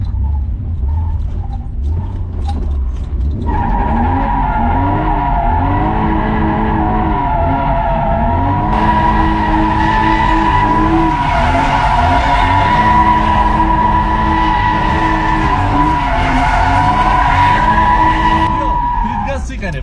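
A car drifts in repeated circles, its engine revving and surging in waves while the tires squeal in a steady, loud screech that lasts nearly the whole time.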